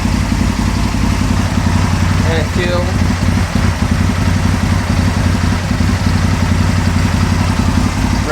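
An Aprilia motorcycle engine ticks over steadily at close range, with a continuous low, even throb and mechanical clatter. Someone speaks briefly over it.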